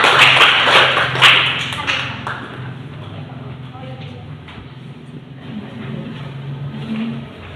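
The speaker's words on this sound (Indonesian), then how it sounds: "Kasih aplaus buat kelompok 1." Classmates applaud a student group in a classroom, a burst of clapping that is loud at first and fades within a couple of seconds, followed by scattered sounds and murmuring voices.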